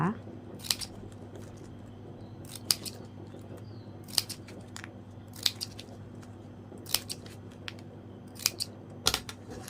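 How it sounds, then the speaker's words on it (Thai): Scissors trim off the ends of ribbon while a lotus coin-scattering charm is being made: sharp, close snips repeat irregularly over a steady low hum, with someone speaking softly in between. "พอเสร็จแล้วเราก็ตัดปลายริบบิ้นทิ้งค่ะ"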